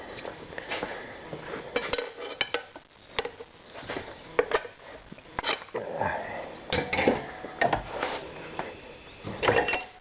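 Metal clanks and scrapes as a tire iron and tire spoon pry at a stuck tire, irregular knocks and rattles at close range with pauses between, a voice briefly audible.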